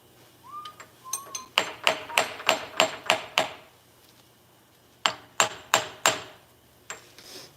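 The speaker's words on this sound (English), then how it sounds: "I do love this copper hammer though." Sharp hammer blows from a copper hammer that began as an old roofing soldering iron, struck during a triangle-milling job: a fast run of about eight ringing metallic hits, a pause, then four more and one last tap.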